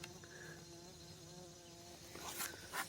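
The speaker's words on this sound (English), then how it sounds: "I still got a few bees, but I think they're bees from another hive" Steady insect buzzing, like bees, with a nearby bee droning closer near the end; quiet outdoor setting with no talking.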